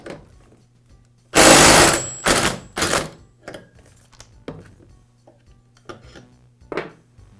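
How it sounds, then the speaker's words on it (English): An impact wrench drives a clutch removal tool to loosen the clutch on a Poulan chainsaw, giving one loud sustained burst followed by two shorter rattling bursts, then a few quieter taps and clicks. "use my impact to remove it in a clockwise rotation"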